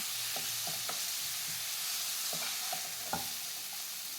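Mint leaves sautéing dry in a pan, a continuous close sizzle broken by repeated scraping strokes of a spatula in uneven bursts.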